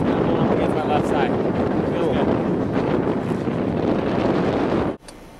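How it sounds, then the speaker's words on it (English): Strong northwest wind buffets the microphone outdoors, a loud, steady roar of rumbling gusts that cuts off abruptly near the end. "We probably won't even hear him with this wind."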